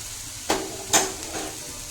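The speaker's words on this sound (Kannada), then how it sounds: "ಈಗ ಇದೇ ಥರನ ಒಂದು 5 ನಿಮಿಷ ಚೆನ್ನಾಗಿ ಹುರ್ಕೊಳ್ಳೋಣ್ರಿ." Cluster bean palya stir-frying in a pan, with two sharp bursts of sizzle and a softer third one standing out over a low, steady frying hiss.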